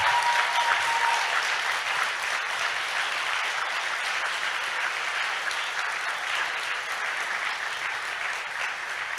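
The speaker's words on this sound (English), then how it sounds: "So please, one big round of applause for this big team of people." An audience applauds at the closing ceremony of the Future Leaders Summit 2022, a sustained, full round of clapping from many hands that carries on evenly and tapers slightly near the end.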